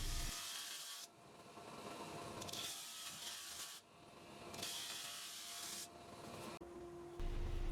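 A small bobbin sander smooths bandsaw marks on a wooden table part in several separate passes, each a loud rasping hiss that is broken by short pauses, with the motor humming in between.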